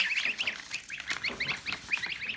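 Goslings and turkey chicks chirp and peep busily in a dense cluster, high-pitched calls overlapping continuously at close range.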